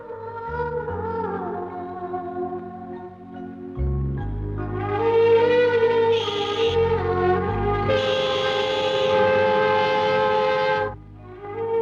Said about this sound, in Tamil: ட்ரெயின் கிளம்ப போதுங்க.